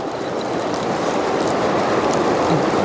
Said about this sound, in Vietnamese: Mưa á, trời này nó mưa